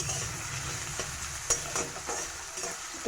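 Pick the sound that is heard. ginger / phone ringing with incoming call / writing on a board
ginger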